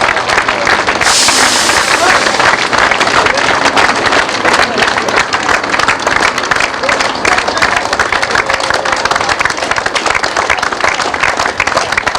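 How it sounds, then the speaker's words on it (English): Loud crowd applause and cheering outdoors at Rockingham Road as a football team coach returns from Wembley, a constant dense roar of clapping with crowd noise throughout. "applause."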